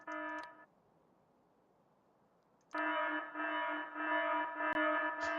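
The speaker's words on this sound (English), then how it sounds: "Why is it making 2 alarm noises?" Alarm in the game Factorio: a harsh buzzing tone sounds briefly, breaks off for about two seconds of near silence, then returns and holds steadily to the end.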